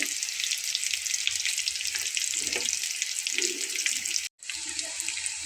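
Potato and flour snacks fry in hot oil with a loud, continuous bubbling sizzle, broken by a brief cut near the end and followed by soft scraping, with no talk.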